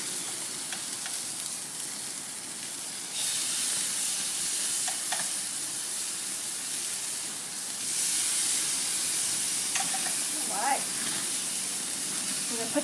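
Marinated bacon-wrapped chicken thigh bundles sizzle on a lit grill, a soft continuous crackling hiss with faint pops throughout.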